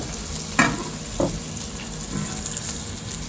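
Ginger-garlic masala for chicken curry fries in a pan, a constant close sizzle punctuated by a few distinct scrapes and taps of a stirring spoon.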